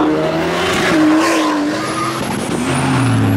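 Loud modified cars, including BMWs and a diesel, rev and roar close by as they pull away from a car meet, with a brief tire squeal and a high whine trailing off.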